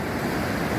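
Waterfall rapids on the Mapuera River give a broad, steady rushing roar with no break, sounding like churning whitewater.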